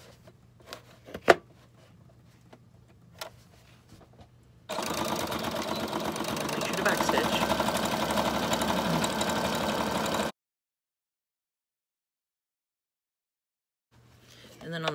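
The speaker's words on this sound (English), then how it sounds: "I'm just gonna sew right along this part where it's all opened up." A sewing machine zigzag-stitches the flap of a handmade junk journal, a close, steady mechanical whir for about six seconds that stops abruptly, preceded by soft handling noises.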